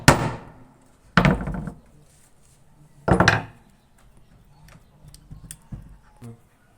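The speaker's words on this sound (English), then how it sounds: "You can decide to just use your hammer to take the nail down." Hammer blows driving a nail into plywood for a screen-printing frame: three sharp, close wooden knocks spaced about a second or two apart, followed by fainter light taps and clatter.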